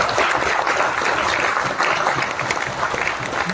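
Audience applause at a Hindi-language direct selling business talk: dense, steady clapping from a crowd, sustained and loud throughout.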